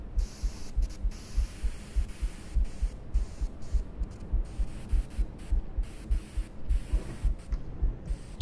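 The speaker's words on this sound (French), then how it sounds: "Ah, c'est la radio." Steady radio static with a throbbing, pulsing hiss runs throughout inside the Granny horror video game, fairly loud and alone, with no voices.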